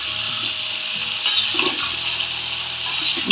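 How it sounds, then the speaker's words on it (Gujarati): Cut potatoes drop into hot oil with cumin and sizzle: a loud, steady hiss fills the whole clip, with a few crackles and a low bubbling underneath. "હવે એમાં આપણે કટ કરેલા બટેટા છે એ નાખશું."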